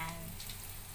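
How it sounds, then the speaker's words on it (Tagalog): Flour-coated liver frying in a pan for Valenciana, a steady close sizzle and crackle with faint spatter running through the whole short moment, no talk over it. "Prito yung atay. Tatalsik daw yan."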